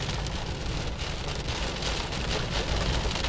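Heavy monsoon rain pours onto a flooded Las Vegas street, a dense, constant roaring hiss with no voices over it.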